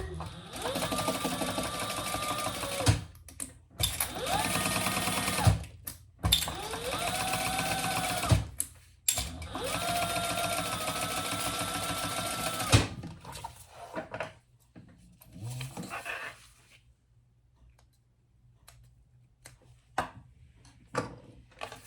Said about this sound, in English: All right, let's top stitch this together.